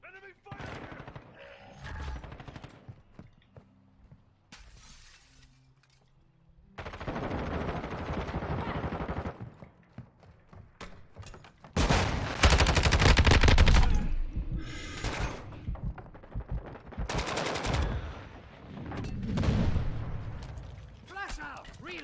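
Bursts of machine-gun fire and explosions from the Modern Warfare II open beta come in loud, irregular volleys separated by quieter stretches, mixed with in-game voices and player talk.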